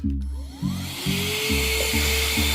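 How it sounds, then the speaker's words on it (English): A power drill whirs in repeated bursts while drilling a hole in an RC twin-hull boat, each spinning up and holding a steady high whine before cutting off, close by with no talking. "time to drill a hole now"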